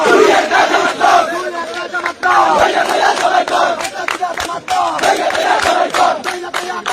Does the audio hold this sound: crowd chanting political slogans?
yes